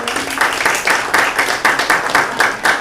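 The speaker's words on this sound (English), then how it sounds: "give yourself a round of applause" Small group at a suicide prevention committee meeting clapping for themselves, a short burst of rhythmic, fairly close hand claps with regular beats, no voices over it.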